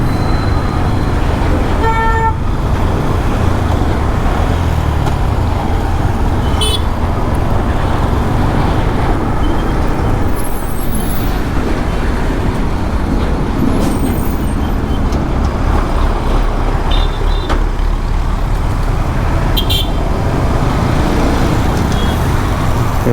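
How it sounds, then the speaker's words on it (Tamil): Yamaha MT-15 V2 motorcycle riding through busy traffic, steady loud road and engine noise throughout with scattered car horns honking nearby, and a voice occasionally speaking. "வண்டியோட ஃபுல் பவர் பார்க்கணும் கைஸ் முதல்ல."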